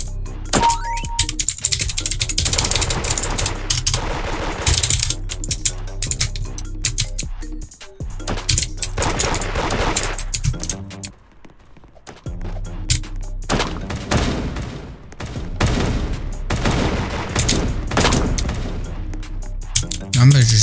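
Rapid bursts of gunfire and booms from a video game shootout ring out loudly and almost continuously, with a person talking over the shooting.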